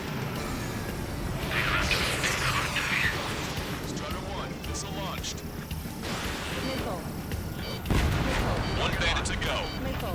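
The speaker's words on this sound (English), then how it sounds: "Strider 1, missile launched." Missile launches and explosions in the Ace Combat 7 air-combat video game, with a dense rumble of blasts and booming fire that swells and bursts, under game radio chatter.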